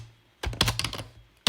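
Rapid keystrokes clatter on a computer keyboard while Java code is typed, a close burst of clicks lasting about a second, then a brief pause and one more sharp key hit.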